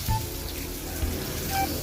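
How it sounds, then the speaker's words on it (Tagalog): Water runs steadily into a cooking pot, a continuous near splashing stream with a low hollow rumble, no voices. "lalagyan na tayo ng tubig."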